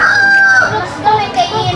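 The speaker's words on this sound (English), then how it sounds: "So we're feeding the chicken." Chickens on a farm in the Philippines, where a rooster lets out one loud, close crow that rises and then trails off, with faint voices and clucking underneath.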